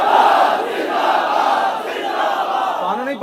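A large crowd at a religious rally in Sheikhupura roars a chanted slogan in unison, a loud sustained mass of voices with rising and falling shouts close by.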